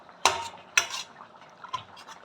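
A metal ladle clanks against a pot while its back mashes hot green chillies, three sharp scraping knocks spaced apart, the last one softer, in a quiet kitchen.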